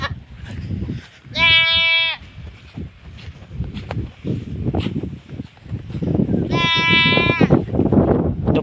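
Two loud, nasal bleats from goats nearby on Simara Island, separated by several seconds, over rustling and low background noise with faint talking.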